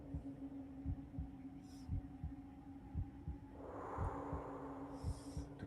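Heartbeat effect in the video game Psi-Ops: The Mindgate Conspiracy, a steady, evenly spaced low thump over a constant hum, with faint higher game noises partway through.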